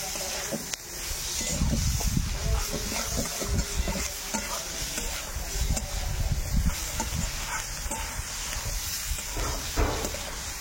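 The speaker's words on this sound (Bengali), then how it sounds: "এবার আলুটা দিয়ে দিচ্ছি, সেদ্ধ আলু।" Boiled potato going into a hot, sizzling pan, a steady frying hiss with occasional stirring scrapes and clatters throughout, close and moderately quiet.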